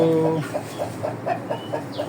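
Chickens, including Shamo gamefowl, cluck inside a coop in a short, fairly regular series of soft calls over steady background noise. A faint voice can be heard briefly at the start.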